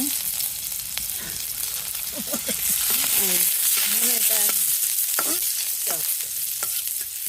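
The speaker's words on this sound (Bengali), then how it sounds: "তেল গরম হয়ে গেছে এখন আমি পেঁয়াজ দিয়ে দিব" Onions frying in hot oil for a village-style small-fish curry, a continuous close sizzle with stirring scrapes and clinks, while a voice speaks intermittently over the cooking.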